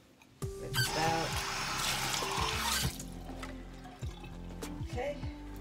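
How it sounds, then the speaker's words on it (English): Tap water runs into a cup being rinsed out in a kitchen, a steady close splashing flow that stops partway, followed by clinks and small knocks of the cup. "Rinse it out."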